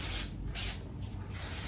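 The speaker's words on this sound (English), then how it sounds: "I'm spraying where the widest part of the cone is hitting the hair" Hairspray is sprayed onto styled hair in three short hissing bursts, close and crisp, separated by brief quiet gaps.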